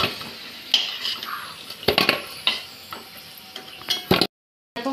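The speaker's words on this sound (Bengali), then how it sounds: "ম্যারিনেট করা যে মাংসটা ছিল সেটা দিয়ে দিচ্ছি, ওইটা ভাজা চাপিয়ে দিয়েছি, ময়দা আর ডিম মাখিয়ে" Flour-and-egg-coated marinated chicken frying in a pan, with scattered clinks and stirring scrapes over a low sizzle, a few sharp utensil knocks, and a brief silent gap near the end.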